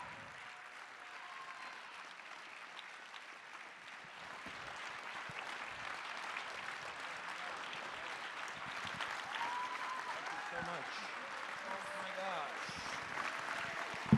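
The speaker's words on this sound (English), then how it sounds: "Let's give him a big round of applause as we welcome him now to the stage." Applause at an evening charity event as a speaker is welcomed to the stage, a broad steady clapping that swells gradually, with occasional cheers and voices faintly mixed in.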